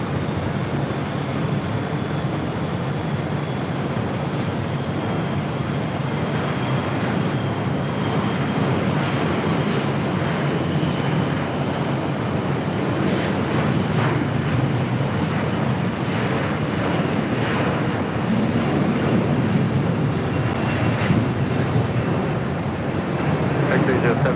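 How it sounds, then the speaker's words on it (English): A Delta airliner arriving at LAX from Salt Lake City makes a broad, steady jet roar that rises and falls gently for a long stretch. Strong wind buffets the microphone throughout, and people talk over the sound. "That was the Delta flight coming in from Salt Lake City."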